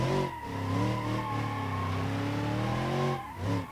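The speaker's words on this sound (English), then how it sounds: "So as I drift around," A car drifting in BeamNG.drive, its engine holding a steady droning whine with a long tire squeal layered over it, loud and close, dipping briefly near the start and end.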